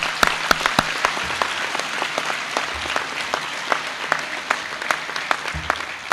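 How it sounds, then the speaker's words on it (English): A graduation crowd applauds the class of 2022 at a high school ceremony in a large space, with steady massed clapping and scattered sharp individual claps standing out. "So a round of applause, please,"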